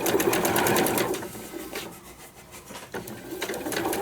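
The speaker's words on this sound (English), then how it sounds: "So I am just stitching with a 1/4 inch around." A sewing machine stitching a quarter-inch seam around a fabric sewing roll, its rapid rhythmic needle hum close and steady, easing slightly in the middle before picking up again.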